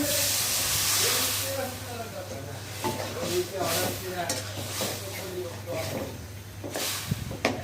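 Shrimp frying in a pan sizzles and hisses steadily as water is added, with stirring scrapes and a low hum underneath, while a voice talks over the cooking.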